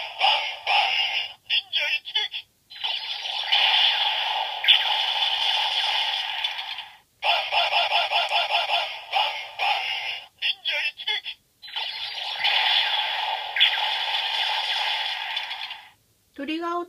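The Ninninger Gama Gama toy gun plays its electronic sound effects and chirpy voice lines repeatedly with each trigger pull, loud tinny bursts separated by short silences.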